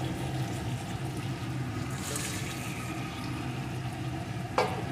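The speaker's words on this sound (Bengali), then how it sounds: "এখন পনিরটাও একটু এর সাথে কষিয়ে নেব।" Paneer, potato and cauliflower sautéing in a spice mix for a cauliflower paneer dalna, producing a dense continuous sizzle with stirring and a sharp scrape near the end.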